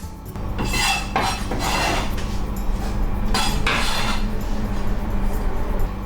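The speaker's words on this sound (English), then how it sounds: "Put it in the large bowl, big enough to put all the eggs and crab sticks." Sliced crab sticks dropped into a large bowl in a home kitchen while making kanitama crab omelette, giving a few soft clinks and clatters of utensils and bowl over a steady background hum, close and moderately loud, no talking.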